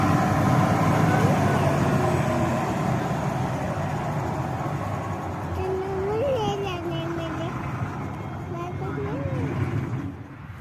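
A steady engine rumble from a combine harvester standing in a farm field fills the background while people talk and call out over it.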